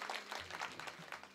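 Applause from a devotional kirtan audience for the singer and accompanying musicians, a steady wash of many hands clapping at moderate loudness throughout, with no talk over it.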